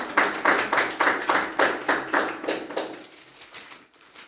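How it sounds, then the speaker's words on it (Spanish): Congregation clapping in unison during a Spanish-language sermon, about a dozen rhythmic claps in a steady beat that fade out near the end, with no talking. "Un fuerte aplauso a nuestro Señor Jesucristo."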